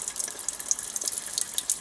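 Tap water runs into a sink while a Canon inkjet cartridge is flushed, a short bright hiss with small splashes and fluctuating spatter, close and steady, no voices.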